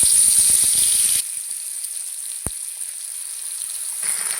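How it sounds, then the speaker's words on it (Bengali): Fish seasoned with salt and turmeric is dropped into hot oil in a wok and gives a loud, crackling sizzle for about a second. The sizzle then settles into a soft, steady hiss. "কড়াইয়ে দিয়ে দিয়েছি তেল, তেল গরম হয়ে গেছে। এখন আমি মাছ ছেড়ে দিচ্ছি।"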